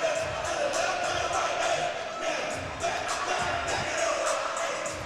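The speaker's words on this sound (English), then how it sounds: "the crowd's starting to get into it a little." A college basketball crowd at Temple versus Princeton murmurs and cheers in a large arena, a broad steady roar with scattered shouts heard from high up in the stands, sustained throughout.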